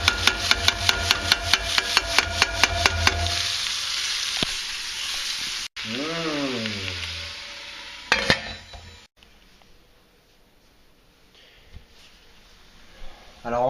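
Duck legs with onion and carrots brown in a pan for a honey-and-orange dish. A run of rhythmic clicks opens over loud sizzling, then a utensil scrape and a clank follow, and the frying fades to a softer hiss.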